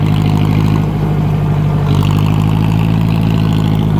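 A 2010 John Deere tractor engine runs while driving, a steady low rumbling drone with a slight rise in pitch midway, close and loud with no voices.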